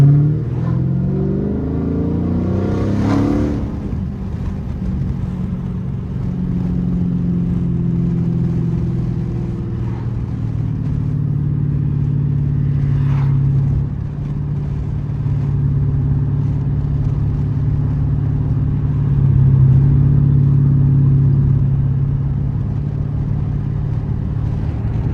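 A straight-piped 2012 SRT8 engine heard from inside, rising in pitch as it accelerates after a downshift, then settling into a loud, steady drone.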